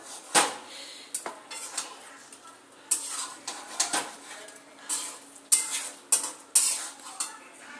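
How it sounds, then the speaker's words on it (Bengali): A spoon stirs chicken with Everest chicken masala and garam masala in a cooking pot, giving repeated metal scrapes and clinks against the pot in an irregular rhythm, close and fairly loud, with no talking. "এভারেস্টের চিকেন গরম মশলা এক চামচ দিয়ে দিয়েছিলাম চিকেন মশলা এবার নাড়া দিয়ে নেবো একবার"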